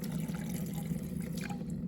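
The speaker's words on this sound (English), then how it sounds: "pouring it into the rocks." Water trickles and gurgles continuously at a low level as 100 milliliters is poured into rocks and seeps through, quiet and close.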